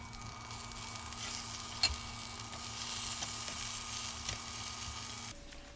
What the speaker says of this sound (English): burgers are halfway done cooking, so I went over there and flipped them